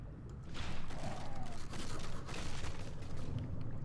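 Gunfire in the underwater shark video game Depth: a quick flurry of muffled shots and bursts over a rumbling background, fairly faint, with a voice speaking over parts of it.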